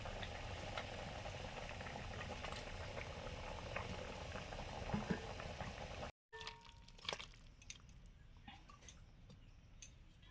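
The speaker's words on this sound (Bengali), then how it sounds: "ঝোল ফুটে গেছে ওই মাছগুলো দিয়ে দিলাম" Fish curry broth boils hard in a pot, a dense steady bubbling hiss that cuts out briefly midway and resumes slightly thinner with scattered pops and ticks.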